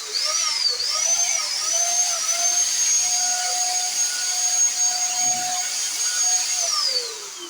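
An electric paint spraying machine running during a test, a loud steady high-pitched motor whine with a slight pitch rise at start-up and a falling tone as it winds down at the end.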